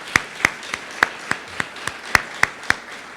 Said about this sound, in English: Let's give Diane another round of applause.